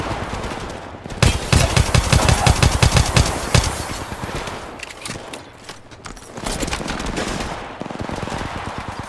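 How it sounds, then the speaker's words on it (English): Sustained automatic gunfire from Apex Legends, loud rapid bursts stacking into a near fusillade for several seconds, easing off, then another stretch of rattling shots with a lighter, more distant texture. "Opening fire."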